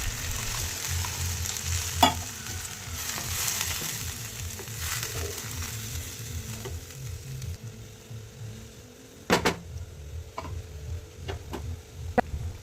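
Rohu fish cooking in a pan with mustard and poppy seed paste hisses and bubbles after water is added, a close, steady simmering sizzle broken by a few sharp clicks and utensil taps.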